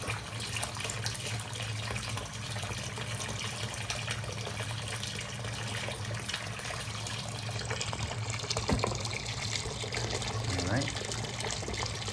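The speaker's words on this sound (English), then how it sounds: "get this sink filled, get this hot water going down it to clean this out." Hot tap water runs steadily into a plugged bathroom lavatory sink, a continuous close splashing wash that fills the whole clip, with a slight bubbling toward the end.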